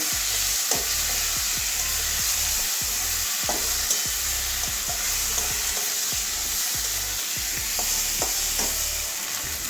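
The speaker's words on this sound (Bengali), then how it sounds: "এবারে পরিমাণ মতো নুন দিয়ে দিচ্ছি আবার ভালো করে কষিয়ে নেবো" Potato, carrot and pointed gourd curry ingredients with green chillies and salt are stir-fried in a pan, giving a constant loud sizzle broken by repeated scraping knocks of the stirring spoon, close up and without talk.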